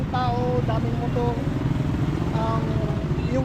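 Motorcycles rumble past continuously on a busy, crowded street, their engines droning and clattering up close, mixed with scattered high chirping sounds and general traffic noise.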